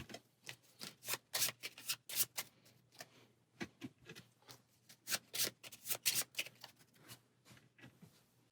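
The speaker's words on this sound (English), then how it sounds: "So take each of these stacks of cards, give them a shuffle." Stacks of cards for the X-Men Mutant Insurrection board game are shuffled in a series of quick riffling bursts, each a brief crisp flutter, repeating irregularly for several seconds at close range with no talking.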